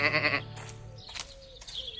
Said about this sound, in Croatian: O ne, ovce su opet izašle van.